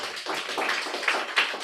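Children in a class give a round of applause, a short burst of rapid overlapping claps, moderately loud with a few sharper hits near the end.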